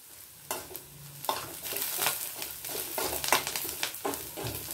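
Tamarind stirred and heated in a pan with softened chillies and curry leaves for groundnut chutney, giving a steady close sizzle broken by repeated scraping stir strokes, with no voices.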